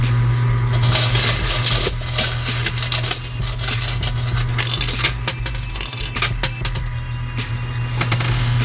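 Quarters clatter into a coin pusher machine in an arcade, with repeated close metallic clinks and jingles of coins over a constant low mechanical hum.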